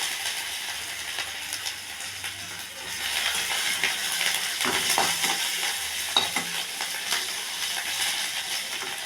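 Cloves, cardamom and ginger frying in oil in a pan while being stirred, a continuous close sizzle with scraping and occasional sharp pops and clinks.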